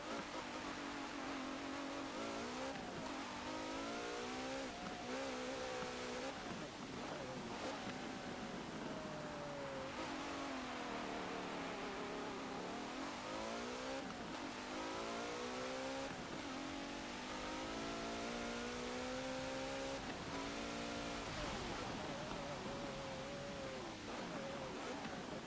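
A 2017 Maserati Levante S SUV engine in the Forza Motorsport 7 racing game roars loudly and continuously, rising and falling through repeated revving and gear shifts for the whole stretch, with no voices over it.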